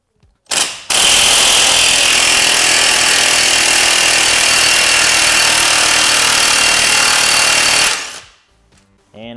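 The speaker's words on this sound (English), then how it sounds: "a impact gun works wonders with this because it actually takes it off pretty good and pretty fast" An impact gun spins off the strut top nut on a Subaru WRX STI in one loud, steady mechanical hammering burst lasting about seven seconds, then cuts out abruptly.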